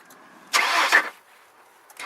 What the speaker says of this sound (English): Gonna go ahead and crank her up.